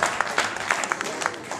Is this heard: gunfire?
no